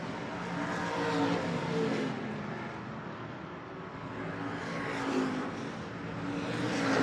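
Stock cars racing at Hancock County Speedway roar past on the oval, a steady loud engine drone that swells and fades as the field moves through the turns, with no voices over it.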